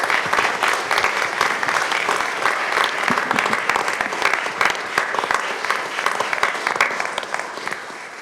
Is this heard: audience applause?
yes